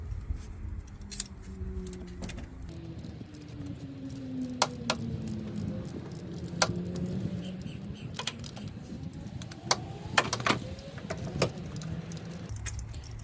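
A ratchet drive cracks loose a Subaru spark plug, giving a series of sharp metallic clicks and clatters over a low background hum, with a rising whine at times.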